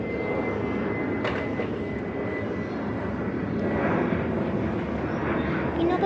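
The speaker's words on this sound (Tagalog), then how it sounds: "May nakikita ko dun, parang aeroplano. Tama ba? Aeroplano yata yan." An airplane passes overhead outdoors as a steady broadband engine roar that holds throughout and swells slightly toward the end, with faint voices in the background.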